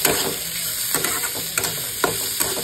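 Masoor lentils frying in a pan are stirred and mixed, a constant close sizzle with irregular scraping taps of the spoon against the pan and a steady high whine running underneath.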